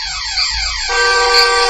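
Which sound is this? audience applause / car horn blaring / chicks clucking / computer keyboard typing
car horn blaring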